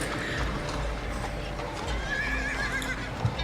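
Horses carrying riders in a town, one rider in gilded armor, whinny while hooves clip-clop steadily under a dense layer of ambient background noise.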